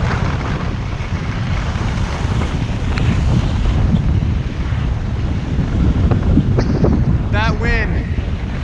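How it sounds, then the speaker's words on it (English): Strong gusting wind buffets the microphone while skiing at Gunstock on a spring day, a loud continuous roar throughout, with a brief faint squeal near the end. "That wind is just killer today."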